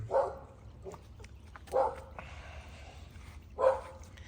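A dog barks three times at spaced intervals, short sharp woofs nearby against a quiet backdrop.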